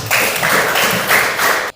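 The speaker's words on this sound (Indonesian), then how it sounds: "Ya, tepuk tangan dulu." A school class bursts into applause, dense hand clapping loud and close that swells a few times over under two seconds and then cuts off abruptly.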